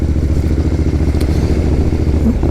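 An Interceptor motorcycle engine runs loud and close with a dense, rough, continuous growl and no gaps, as a steady snarling roar, with no talking.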